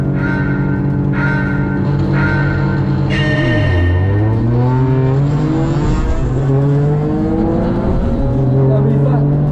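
A Toyota GR race car screams around the Mandalika circuit, its loud engine climbing through gear changes with a sharp drop in revs, heard continuously under excited talk.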